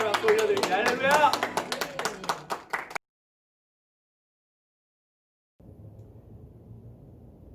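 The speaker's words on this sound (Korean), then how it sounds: "주님께 영광의 박수 올려드립니다." In a youth church service, the congregation claps in praise to the Lord, with a quick, sharp run of claps under a voice. The sound cuts off abruptly into silence, and faint low room noise follows.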